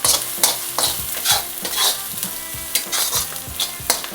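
Ginger-garlic paste and curry leaves fry in hot oil for a methi chicken fry, making a bright continuous sizzle broken by quick scraping stir strokes at an irregular beat.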